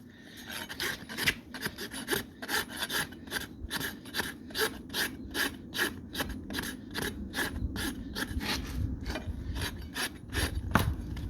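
A hand rasp files a horse hoof during a trim, giving a steady series of close, regular scraping strokes roughly two per second, each a coarse rasping rub, with no talking.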